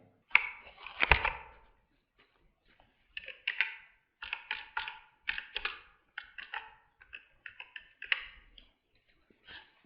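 Rapid bursts of key clicks on a keyboard come in uneven clusters as a channel name is typed, close and moderately loud, with brief pauses between groups of keystrokes and no voices.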